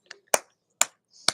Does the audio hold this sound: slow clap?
yes